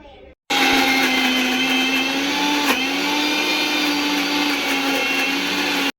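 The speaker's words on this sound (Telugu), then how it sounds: "మిక్సీకి అయితే పట్టుకుంటాను." A mixer grinder blends tomato, green chilli and greens into chutney with a loud, steady motor whine that starts abruptly after a short quiet lead-in and runs continuously to the end.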